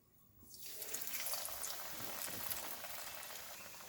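Potol (pointed gourd) chops go into hot oil in a wok and burst into a sudden loud sizzle, which settles into a steady, bubbling hiss.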